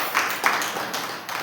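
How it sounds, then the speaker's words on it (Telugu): A church congregation claps hands loudly during a Sunday service, a dense patter of clapping running throughout. "నమ్మిన వారు గట్టిగా చప్పట్లు కొట్టడమ్మా."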